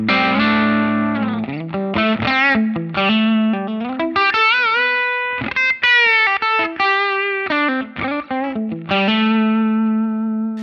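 Electric guitar riffs play through a distorted Line 6 Helix Ventoux amp model with a dynamic room reverb tail, the notes fast and choppy with short sustained bends.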